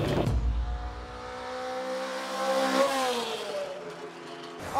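Honda S600 with a 600 cc, 57 horsepower engine revving high, a loud sustained whine that climbs and wavers in pitch, short of redline, with a brief burst of noise at the start.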